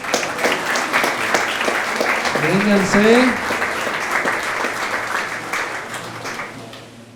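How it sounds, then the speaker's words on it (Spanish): A church congregation applauds children, with dense, steady clapping across the whole stretch at a fairly loud level, gradually thinning out toward the end, while a voice speaks over it. "Denles un aplauso, por favor."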